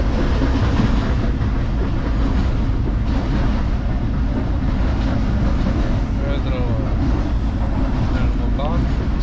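Sleeper passenger train in Pakistan, boarded at Hyderabad, with a steady loud rumble of carriages rolling on rails throughout and voices talking faintly inside the coach.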